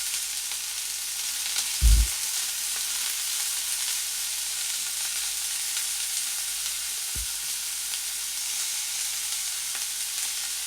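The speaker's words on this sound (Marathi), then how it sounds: "वाटण हे आपल्याला छान तेलात परतून घ्यायचं आहे." Masala paste of ground dry coconut fries in a little oil in a pan, giving a steady, soft sizzle throughout with a couple of brief low thumps near the start.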